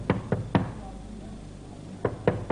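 Knocking on a door in a domestic drama scene: a quick group of three sharp raps, a pause, then two more, close and distinct with no talk over them.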